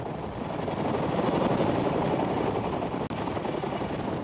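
Chinook helicopter with twin main rotors and no tail rotor in flight, a dense, steady rumbling roar with fast rotor pulsing, sustained and fairly close.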